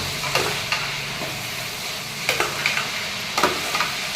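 Vegetables stirring and frying in a pan over a medium flame, a steady sizzle with scrapes of the spoon coming at irregular intervals, close and fairly loud, with no talking.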